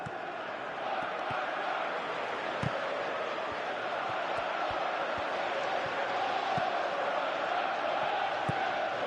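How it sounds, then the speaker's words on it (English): Steady broad crowd murmur from a virtual football stadium in a PS4 football game, an even continuous wash with faint thumps and small swells throughout. "Crowd appreciates good football all round there."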